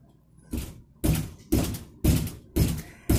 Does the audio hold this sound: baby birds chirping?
no